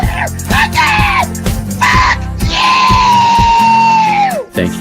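A man lets out a loud, strained scream, several short yells then one long sustained howl that rises and cuts off, close and raw, with shouting between bursts.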